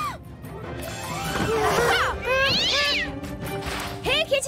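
A cartoon cat meows in a series of rising and falling cries, loud and close, between bursts of animated dialogue and a few clattering bumps near the end.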